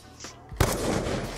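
A gunshot in the video game Black Ops 2 cracks sharply after a brief quiet lead-in, then a dense, noisy rumble trails on at a steady loudness.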